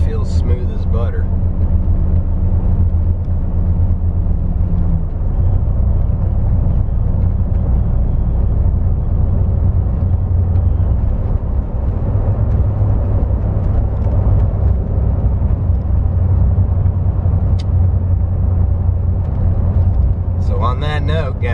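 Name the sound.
Toyota Tacoma truck driving at 40 mph on new tires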